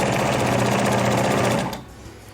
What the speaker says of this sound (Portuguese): aí você vai puxar os dois juntos um pouco e passar a costura reta